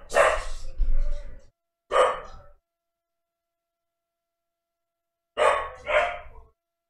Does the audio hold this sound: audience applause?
no